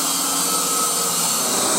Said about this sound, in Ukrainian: Міняємо круг і будемо шліфувати внутрішній діаметр.